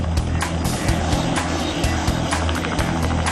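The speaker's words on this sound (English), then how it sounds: "As the plane makes its final descent" A plane making its final descent, with a steady loud propeller or engine drone and rushing broadband noise running continuously and close throughout, with no talk.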